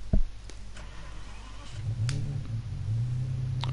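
Ferrari F50 engine in the racing game Gran Turismo Sport, starting with a sharp click, then a low idle that rises into a steady, louder rumbling drone, with no speech over it.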